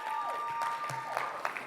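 An audience at the Vision Summit 2021 applauds, steady clapping with a tonal hum and faint voices mixed in, moderately loud throughout the short burst.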